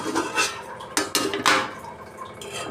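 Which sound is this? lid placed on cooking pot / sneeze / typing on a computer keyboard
lid placed on cooking pot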